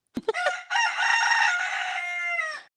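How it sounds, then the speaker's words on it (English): A rooster crows once, close and loud, a sustained bright cock-a-doodle-doo lasting about two seconds after a couple of short clucking notes. "we already know Rooster's Crow"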